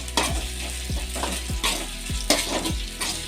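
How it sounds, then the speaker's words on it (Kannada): Onion and a sliced tomato sizzle in a pan for ivy gourd palya, with a spatula scraping and clanking against the pan in a steady rhythm every half second or so, close and fairly loud. "ಇದು ಕೂಡ ಸ್ವಲ್ಪ ಸಾಫ್ಟ್ ಆಗೋ ಗಂಟ ಫ್ರೈ ಮಾಡ್ಕೋಬೇಕು"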